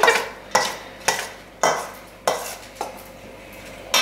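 A spoon scrapes and clanks against a pot in a series of sharp, evenly spaced strokes about every half second, loud and close, while food is stirred with no talking.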